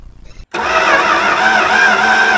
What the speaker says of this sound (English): I turned the key and Pearl's engine turned over for the very first time